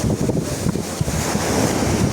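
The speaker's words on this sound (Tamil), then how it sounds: "சரியான அலை அடிக்குது." Strong sea waves crash and roll continuously on the coast while heavy wind buffets the microphone, a loud, steady roar with no break.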